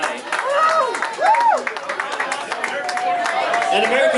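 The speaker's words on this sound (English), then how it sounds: "round of applause for Sam Dobbin, our roast master of the night" A comedy roast audience applauds and cheers for the roast master. The clapping is steady and mid-distance, with voices and whoops rising over it throughout.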